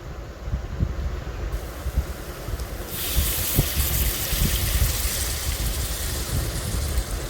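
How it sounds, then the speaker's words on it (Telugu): Tamarind pulp pours into a dry fish and drumstick curry, a steady watery gush under low cooking noise that swells into a louder, broader rush partway through. No one speaks. "మనము ముందుగా తీసి పెట్టుకున్న చింతపండు గుజ్జుని కర్రీలోకి యాడ్ చేస్తున్నాను"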